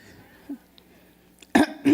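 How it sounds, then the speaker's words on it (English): Someone clears their throat twice near the end, two short rough bursts after a mostly quiet stretch with a faint earlier sound. "I really was just clearing my throat that time"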